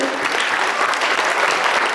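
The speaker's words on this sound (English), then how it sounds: "Give them a big round of applause, everybody" A banquet audience at a chamber of commerce event in Schuyler, Nebraska, claps loudly and continuously in a dense, even wash of applause filling the room.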